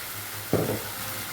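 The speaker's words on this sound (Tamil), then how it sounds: "கை விடாமல் கொஞ்சம் கிண்டணும் ஸ்லோவிலே" Puffed rice halwa is stirred slowly over a low flame, with a soft continuous sizzle and a single louder scrape of the spoon through the thick mixture partway through.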